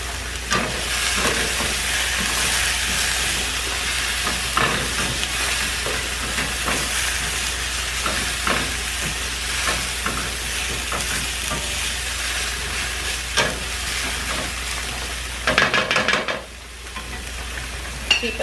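Cabbage caramelizing and cooking down in a pan, with a steady, continuous sizzle and hiss that carries on through the whole stretch, broken by occasional stirring scrapes and a brief clatter near the end.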